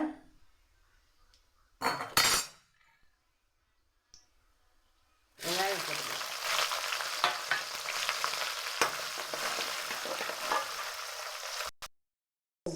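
Mustard seeds fry in oil over a low gas flame for a bitter gourd dish. After a quiet start with a couple of sharp clinks, a steady close sizzle with light crackles runs for several seconds, then cuts off abruptly.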